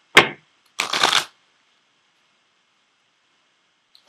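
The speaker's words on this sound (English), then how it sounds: "So I am going to pull a card from the Ascended Masters deck for you as well." Two quick riffles of a tarot or oracle deck, the Ascended Masters cards, shuffled close to the microphone, a short snap followed by a longer fluttering burst, then near silence.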